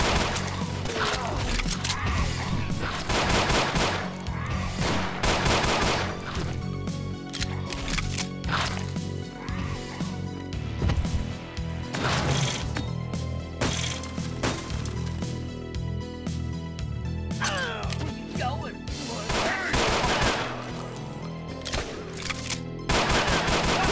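Sustained gunfire in the post-apocalyptic video game Ashes 2063, with dense bursts of shots and rattling automatic fire running loud and near throughout, mixed with mechanical clatter.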